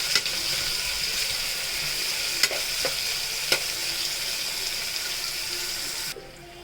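Onions and green chillies frying in a pan for biryani, a steady close sizzle with a few sharp clinks of stirring, the hiss cutting off near the end.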